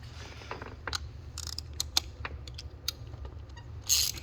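A ratchet fitted with a 5/8 spark plug socket loosens a spark plug on a 2012 Mercedes-Benz C250, giving sparse, close mechanical clicks and small metallic taps over a low background hum.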